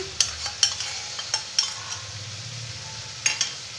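Ginger paste and poppy seed paste are stirred into a bottle gourd shukto with bitter gourd and lentil dumplings. A few sharp spoon clinks and scrapes ring against the pan over a soft, low simmer, close by.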